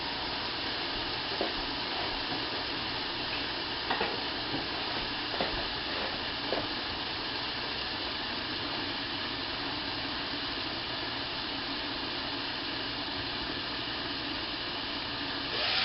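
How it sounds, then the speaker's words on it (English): A steady broadband hiss of food steaming and faintly sizzling in a covered pan, continuous throughout, with a few small clicks and pops. "Put the lid back on here and let that steam for a little bit."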